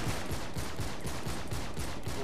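Rapid, repeated gunfire rattles through a firefight in the video game Uncharted 3, with bursts pulsing at a steady fast rhythm, loud and dense, and no talk over it.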